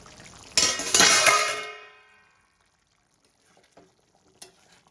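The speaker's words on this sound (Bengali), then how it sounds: "10 মিনিট হয়ে গেছে, এবার আমি ঢাকনাটা তুলে দেখে নেব।" A lid lifted off a pan of Kashmiri-style chicken cooking in its own released juices: a loud, close metallic clang that rings and fades over about a second, then near silence with a few faint knocks.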